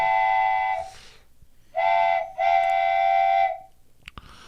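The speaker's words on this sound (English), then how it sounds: "So anyway, the train's departing" Loud, close train whistle sounding three times: one long blast, a short one, then another long blast, followed by quieter rumble and clanks.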